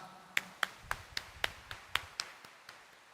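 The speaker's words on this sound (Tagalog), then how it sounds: "itaas nga ang kamay at pumalakpak ng mas malakas" A church congregation's sharp hand claps land in a steady rhythm, about ten in quick succession, crisp and fairly near, with no voices over them.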